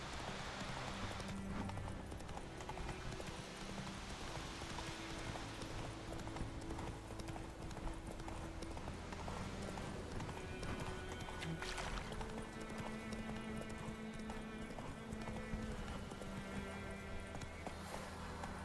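Galloping horse hooves in The Witcher 3 video game, a fast, continuous clip-clop rhythm heard up close alongside game ambience, with occasional faint voice.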